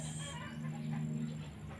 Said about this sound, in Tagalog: Dami manok dun guys.